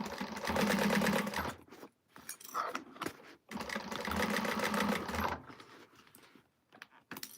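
A sewing machine runs in two long bursts of steady, rapid stitching while joining the gusset on a Zodiac Group bag, with short pauses between runs and soft handling sounds at the end.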